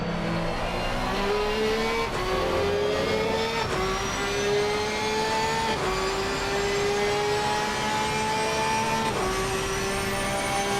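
A Ferrari 296 GT3 race car's engine in a racing video game at Imola at night, a loud, continuous high-revving drone that climbs steadily with several sharp gear-shift drops, with no talking.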